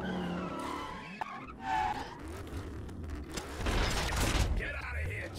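A big truck in the Transformers PS2 game skids and drives, tires squealing in sweeping bursts over a rumbling engine, with a voice talking intermittently.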